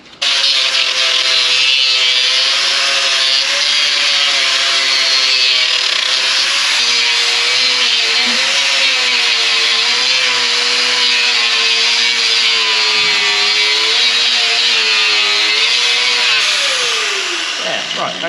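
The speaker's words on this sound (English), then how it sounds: "that grinder just melts it away" A Wurth angle grinder grinds continuously for about seventeen seconds, a loud close high-pitched whine over a broad abrasive roar with slight pitch wavering, then winds down at the end.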